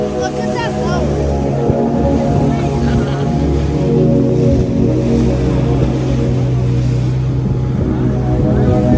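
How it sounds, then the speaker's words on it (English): A motorboat passes on the sea off Jamaica near Lime Cay, its engine a loud, steady close drone blending with wind and water noise throughout. "Look at that boat."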